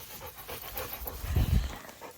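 Dogs run off leash around a hayfield in the evening, panting rapidly and audibly up close, with outdoor rustle and footfalls swelling briefly midway.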